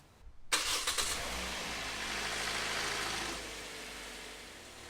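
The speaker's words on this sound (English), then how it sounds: "we'll start the engine for 30 seconds." A Toyota Corolla of the 11th generation (2013–2020) cranks and its engine catches, then settles into a steady, fairly loud idle close by, with no talk over it.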